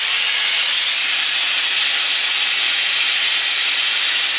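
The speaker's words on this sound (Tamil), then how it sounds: "பாருங்கள் 4 விசில் வந்துச்சு" Pressure cooker on the stove cooking country chicken soup, letting out a loud, sustained hissing steam whistle that stays even and unbroken throughout.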